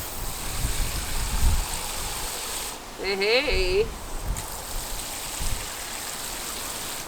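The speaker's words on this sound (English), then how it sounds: "Can you see that water spraying everywhere? So I'm now spraying the trees and the branches." Water hissing from a leaking garden hose with a hole, sprayed over trees and branches outdoors, a steady broadband wash under a brief shout and some talk.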